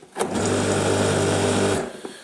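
A Karcher K5 Premium Full Control Plus pressure washer runs during a repair test, a loud, close, steady motor whine starting abruptly with a click and cutting off after about a second and a half.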